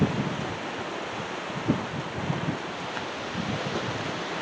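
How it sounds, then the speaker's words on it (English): Strong wind buffets an outdoor tailgate spot in steady broadband gusts, with a few brief knocks and rumbles mixed in and no one talking. "Waiting on the wind to calm down."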